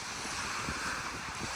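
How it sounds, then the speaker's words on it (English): Windy lakeshore surf in the Yellowstone backcountry, a continuous wash of waves rolling in under gusting wind noise on the microphone, steady and fairly loud with no voices. "You have to count the waves as they come in"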